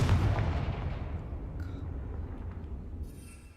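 A Confringo spell explodes in Hogwarts Legacy with a loud, heavy blast that booms and then rumbles and fades over several seconds, with no talking over it.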